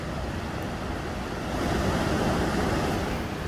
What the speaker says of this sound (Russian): Вот он бушует водопад.